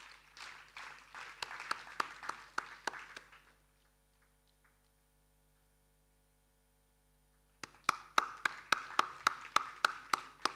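Applause from a crowd at a foundation day awards ceremony in two bursts, sharp claps filling a few seconds, then a pause of near silence before the clapping picks up again.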